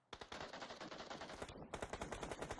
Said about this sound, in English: You can tell they're being shot at from all sorts of angles